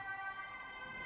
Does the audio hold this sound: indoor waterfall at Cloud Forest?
no